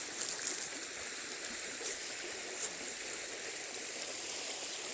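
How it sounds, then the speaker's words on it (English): A bubbling creek flows steadily outdoors, its water trickling in a soft, constant hiss with no voices over it. "That creek just goes on and on and on."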